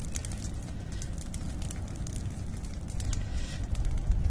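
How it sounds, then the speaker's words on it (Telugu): Firewood burning in an open fire lit to make charcoal, giving a steady, dense crackle and roar close by, growing slightly louder toward the end, with no talk. "బాగా మంతుంది మంట, దగ్గర రానిసలేదు."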